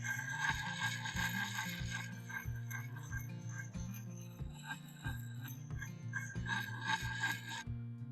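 An axe blade being sharpened with a medium-coarse sharpening puck, giving repeated rhythmic scraping strokes, close and fairly loud, with a low hum running underneath.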